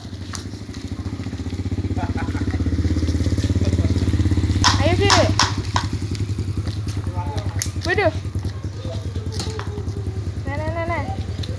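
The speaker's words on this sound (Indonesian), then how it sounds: "Awas motor." A motorcycle engine runs close by with a steady low rumble that builds over the first few seconds, while children and adults call out over it.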